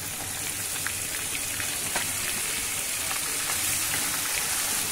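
Cauliflower and vegetables sauté in a generous amount of oil with turmeric, a dense, continuous crackling sizzle close up, steady throughout with faint scraping of a spoon.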